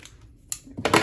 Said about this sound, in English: But first I'm going to trim the extra fabric.